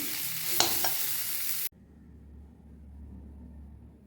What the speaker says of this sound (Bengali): হয়ে গেছে ফুলকপি আর আলু ভেজে নেওয়া